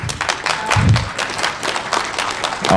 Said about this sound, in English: I'll tell her you clapped.